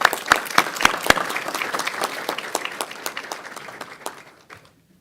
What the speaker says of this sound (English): if you will join me in giving them a round of applause